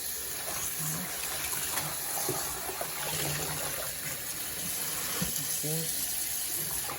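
Water runs steadily from a tap over collard greens being rinsed, a continuous rushing wash with faint clinks and handling sounds underneath.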